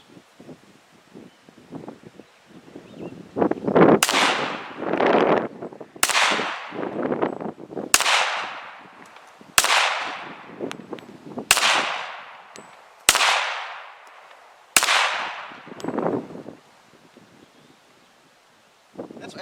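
Seven loud, sharp gunshots from a 1911 pistol at an outdoor gun range, fired at an even pace about two seconds apart. Each shot cracks and then echoes as it fades, with some wind and rustling between them.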